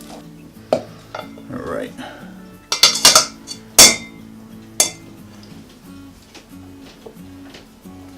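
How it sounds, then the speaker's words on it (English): A potato masher pressing bananas in a bowl for sour cream banana bread: scattered clinks and knocks against the bowl, clustering into a busier burst midway, then thinning out, with a brief spoken remark. "use a potato masher. I'm just gonna kind of mash them up"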